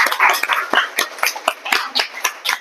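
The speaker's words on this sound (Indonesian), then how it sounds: "kita kasih tepuk tangan dulu." A classroom audience claps after a stand-up comedy performance, a brief scattered round of applause heard close by, uneven and light.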